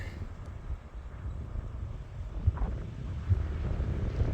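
Strong winter storm wind with lake-enhanced blowing snow in Valparaiso, Indiana, a steady low rumbling roar buffeting the microphone, with a few heavier gusts thumping through.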